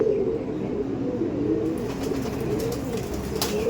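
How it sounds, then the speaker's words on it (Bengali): Pigeons in a racing loft coo in a soft, low, unbroken drone that stays fairly close and steady throughout, without speech. "সমস্ত পায়রার লেগ দেখুন।"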